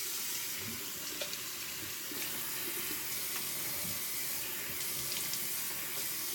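Tap water runs steadily into a sink while a shaved head is rinsed off, a constant close hiss and splash with small shifts in the flow and no talking.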